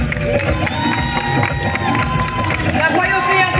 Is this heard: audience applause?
yes